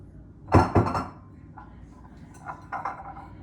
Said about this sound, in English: this is going to be where we put one set of our nesting bowls. So let me grab those.